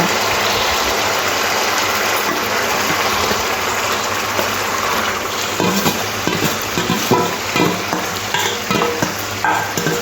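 Chicken hits hot spiced oil in a pan with a loud continuous sizzle and hiss, then a spoon stirs and scrapes it in a quick, uneven series of knocks and clatters.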